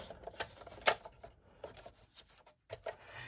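Paper being trimmed to size for a holiday card, a few sharp cutting clicks and slides at close range with quiet gaps between them.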